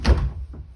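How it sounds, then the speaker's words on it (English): A door swings shut in an exam room, giving one close, loud thud with a short low rumble that fades quickly. "I'm going to close the door for privacy"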